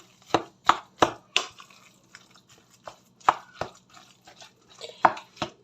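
Minced meat and swollen oatmeal being worked together by hand for baked cutlets, giving a series of wet, sticky slaps and squelches, close and fairly loud, in irregular bursts with short pauses.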